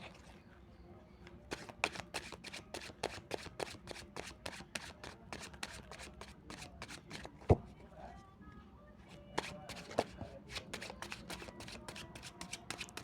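Cards from a deck are shuffled and drawn, a steady quiet patter of riffling flicks and soft snaps with a few sharper clicks, close up and fairly faint.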